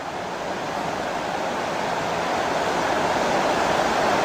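Rushing water of the North Fork of the Yuba River near Downieville, a steady, dense roar that holds close and loud throughout and swells slightly toward the end, with no voices.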